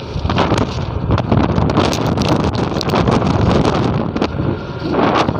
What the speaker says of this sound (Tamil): காற்றுலாம் பயங்கரமாக அடிக்குது